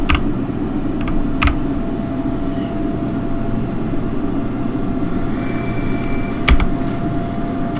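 Steady loud rail rumble and wheel noise from an Acela 2100 train in Train Sim World 4, running continuously with a few sharp clicks and a faint high whine joining partway through, with no talking.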